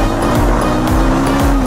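A motorcycle engine revs hard at full power during a training ride, its brakes not working: a loud, continuous, close-up roar with pitch rising and dipping across short pulls.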